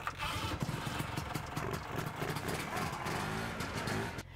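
The engine of a 1972 Ski-Doo TNT snowmobile catches and runs loud and close, with a rough, uneven putter and rapid sputtering revs.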